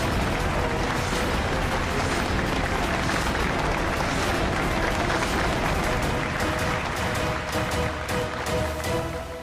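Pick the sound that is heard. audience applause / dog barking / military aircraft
audience applause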